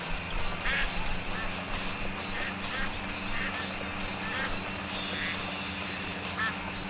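Ducks quack repeatedly in the Duck Dynasty video game, scattered calls over a steady low engine-like drone, with voices talking through it.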